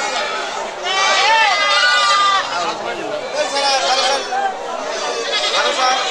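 Native-breed goats at a busy goat market in Chatmohar, Pabna bleat again and again in overlapping, wavering cries, close and loud over a steady murmur of crowd chatter.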